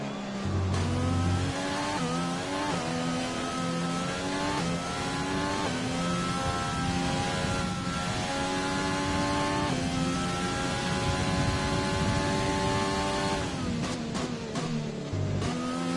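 F1 2020 racing game car, a Formula One single-seater at Spain's circuit, its high-pitched engine revving and climbing through gears in repeated rising sweeps, loud and continuous for the whole stretch with no talk.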